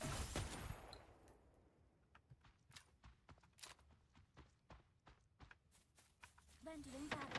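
Gunfire in the video game Fate Trigger comes as scattered sharp shots and bursts of varying loudness, with a voice speaking near the end.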